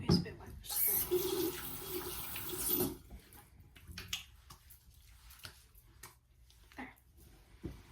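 Water runs from a sink tap for about three seconds while a face is wetted before cleansing, then stops, leaving soft splashes, handling noises and brief quiet speech.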